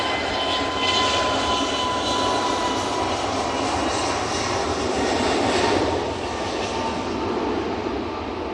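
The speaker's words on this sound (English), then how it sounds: "A321neo is off to Corfu." An Airbus A321neo departing Manchester Airport for Corfu roars steadily and fairly loud, its jet engines building slightly before easing off near the end, with no talk.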